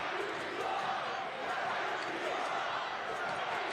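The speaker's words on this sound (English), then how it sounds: "Crowd absolutely incensed" An angry crowd at Al Lang stadium roars and boos in protest during a Tampa Bay Rowdies versus Miami FC match, a sustained, distant-sounding wash of voices.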